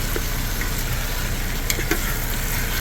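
A fair amount of garlic frying in a pot, giving a steady, close sizzle with faint crackles and a few light stirring taps.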